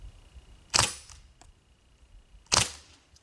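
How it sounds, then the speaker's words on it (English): A Crosman ST-1 BB rifle with a scope fires two separate semi-automatic shots, each a sharp, close snap about two seconds apart, with quiet between them. "I'm just doing some semi-auto to get sighted in"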